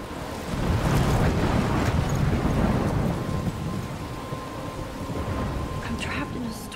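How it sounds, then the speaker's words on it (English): Thunderstorm in the video game Life Is Strange, with a loud, steady roar of heavy rain and rumbling thunder filling the scene. The rumble swells early, then settles into a constant downpour, with no one speaking. "I'm trapped in a storm?"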